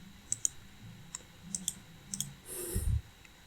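A computer keyboard clicks under sparse typing, crisp close keystrokes coming in small scattered clusters, followed by a brief louder rustling thump near the end.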